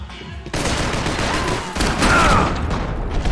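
Dense, continuous gunfire in the video game Max Payne erupts suddenly and keeps going as a loud barrage, with a brief dip before surging again.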